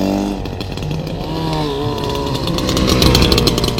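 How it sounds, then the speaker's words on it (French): Motobécane 50V twin-engine 140cc two-stroke motorbike running, a loud raspy buzzing engine revving close by, the note rising and falling then climbing toward the end, no speech over it. "pour entendre un peu le bruit de ce bicylindre en fonctionnement"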